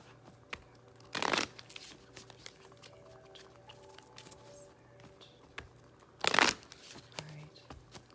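Two short bursts of riffled tarot cards being shuffled, crisp and close, separated by a quiet stretch with faint handling noises.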